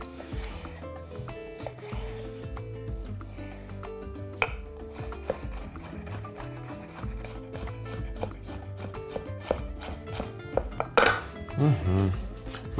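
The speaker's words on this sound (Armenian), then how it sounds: "Քաղցր պղպեղներից կվերցնենք կանաչը, մուկ կանաչը, կտրատում ենք փոքր խորանարդիկների" A knife chops a green sweet pepper into small cubes for mushroom soup, giving quick, light, rhythmic taps on a board under steady tonal background music.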